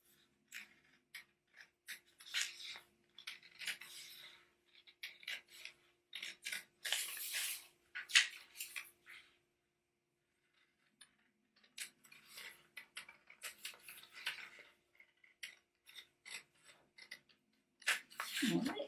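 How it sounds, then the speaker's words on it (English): Scissors snip through paper while making a photo sculpture, a series of crisp close cuts in irregular bursts with short pauses between strokes, and a voice speaks briefly near the end. "You can just take your scissors"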